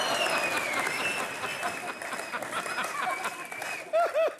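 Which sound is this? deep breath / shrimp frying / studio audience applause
studio audience applause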